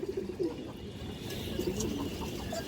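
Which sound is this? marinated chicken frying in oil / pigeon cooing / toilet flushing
pigeon cooing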